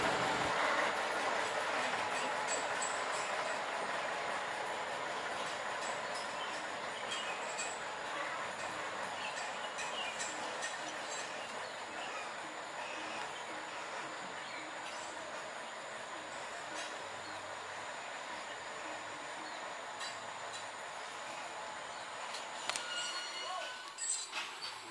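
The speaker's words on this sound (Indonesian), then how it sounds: "lokomotif perlahan-lahan maju menuju jalur yang berbelok untuk mengambil rangkaian lori yang berisi tebu" A locomotive at the Kedawung sugar mill creeps slowly onto a curved track to collect a rake of sugarcane lorries, a steady rolling rumble with metallic clinks and faint wheel squeal, moderately near.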